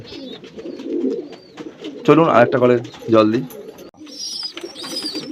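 Domestic pigeons at a home loft, with soft repeated cooing and throaty calls close by, mixed with a person speaking briefly in between.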